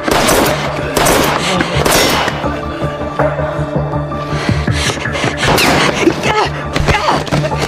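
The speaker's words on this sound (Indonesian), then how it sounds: "Peluru yang ditembakkan Nana ternyata hanya mengenai ponsel Xiao, membuatnya masih bertahan hidup." Gunfire rings out in a film shootout, with rapid loud cracks and clanging impacts over a dense backdrop of music and effects, and a voice talking through parts of it.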